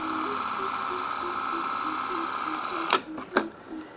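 A Keystone Capri K25 8mm Double 8 movie camera, crank-wound with no batteries, whirs steadily with its film mechanism running, followed by a couple of sharp mechanical clicks near the end.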